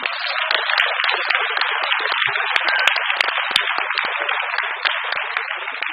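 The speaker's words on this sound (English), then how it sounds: "Please give a round of applause everybody to get the energy going" Sustained applause from a large audience in a hall at a university MSc graduation ceremony, dense steady clapping that stays loud and unbroken throughout with no voices over it.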